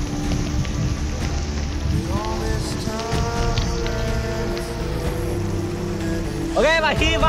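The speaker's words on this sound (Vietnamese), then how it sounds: "Trời đang mưa rất là to" Heavy rain pours onto a raft built from banana tree trunks floating on a river, a steady, close hiss throughout, with someone talking over it and a brief splashy surge near the end.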